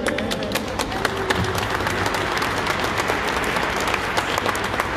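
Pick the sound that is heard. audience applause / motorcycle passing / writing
audience applause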